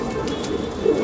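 Pigeons coo softly at a pigeon loft, a low rolling burble that swells slightly near the end of the brief stretch, close and fairly loud with no voices.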